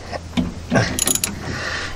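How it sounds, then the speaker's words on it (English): A tie rod separator is tightened on a VW Beetle front spindle to pop out the tie rod, giving a brief, loud run of close metallic clicks and clatter over a couple of seconds. "you just keep tightening this until that tie rod actually pops right out"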